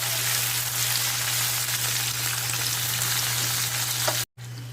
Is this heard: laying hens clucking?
no